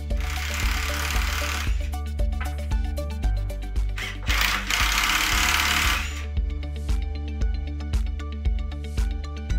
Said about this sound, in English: Now it's time to shear the bolts.